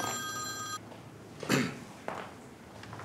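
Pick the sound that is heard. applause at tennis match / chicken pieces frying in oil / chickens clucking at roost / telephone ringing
telephone ringing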